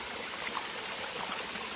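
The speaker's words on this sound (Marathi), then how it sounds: "हा आहे डॅम. इकडूनच हे पाणी वाहत आहे" Water pours from a dam in a steady, broadband rush. It sounds close and continuous, like a stream, with no voices.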